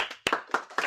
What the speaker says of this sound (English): so grande applause for Pietro